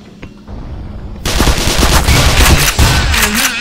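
Sustained automatic gunfire in the video game Black Mesa, a dense, loud continuous roar of rapid shots that starts abruptly after a quieter lead-in and carries on without pause.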